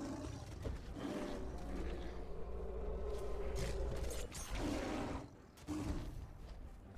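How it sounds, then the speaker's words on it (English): A tiger roars in the Conan Exiles video game on the Isle of Siptah, with repeated deep, growling bursts close by and brief pauses between them. No one speaks over it. "Oh, I hear a tiger."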